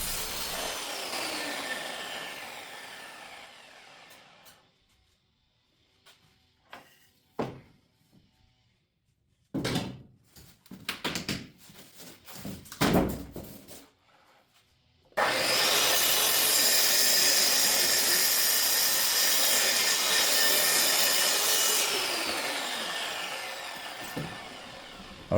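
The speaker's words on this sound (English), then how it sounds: "I love this little track saw." A track saw rips through scrap 2x4 pine for end tables, a loud sustained whining cut at the start, a stretch of scattered knocks and handling of the wood, then a second long, steady cut close by.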